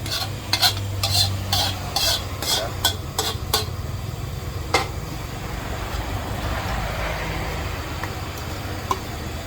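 Curry paste for a coconut-milk chicken curry is stir-fried in a pan, with a run of sharp spatula scrapes and clinks against the metal over a steady low sizzle, the strokes thinning out as the frying continues.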